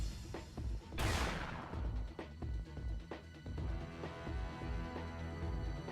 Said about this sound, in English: The deafening roar of a gunshot ripped through the air, followed by a shriek